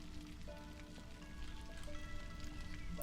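Soft drizzling rain patters steadily in a colony-building game called Against the Storm, a faint continuous hiss of raindrops with quiet tonal game sounds layered underneath.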